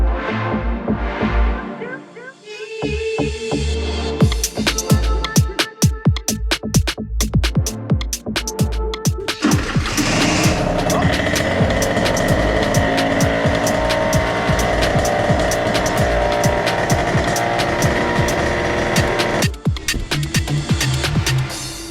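A 50cc two-stroke scooter races a Yamaha Aerox 100cc, engines revving hard and rising through the gears with sharp throttle blips, then a steady high-pitched drone close to the microphone, with no speech.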